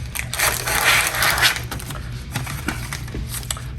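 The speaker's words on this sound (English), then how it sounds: "find and open the package with the EcoCut shaft" Peeling open the single peel pack holding the EcoCut laparoscopic scissor shaft, a close, loud crinkling and tearing of plastic packaging that fades into lighter rustling.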